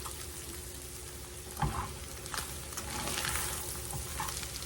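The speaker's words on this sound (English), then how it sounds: "Now, let's stir that around in here." Taco-seasoned ground beef stirred in a frying pan, a soft continuous sizzle with a sharp utensil knock partway through and louder scraping stirs afterward, close by.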